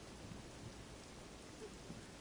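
Rain falls steadily in a video game, a faint, even hiss of drops on leaves beneath a big tree's canopy, with no voices over it.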